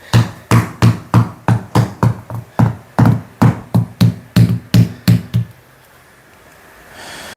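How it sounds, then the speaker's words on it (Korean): A rubber mallet taps vinyl deco floor tiles during installation: about fifteen evenly spaced, close, solid knocks in a steady rhythm, then quiet room tone. "그리고 고무망치 같은 것도 사용하셔도 좋습니다."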